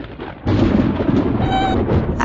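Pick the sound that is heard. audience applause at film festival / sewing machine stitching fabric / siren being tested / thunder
thunder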